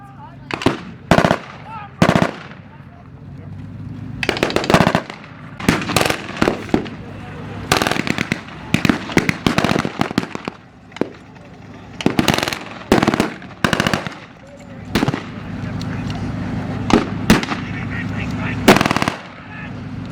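Loud bursts of automatic gunfire from soldiers at a tank weekend event in Aquino, rattling in rapid volleys again and again with brief gaps between them, close and harsh.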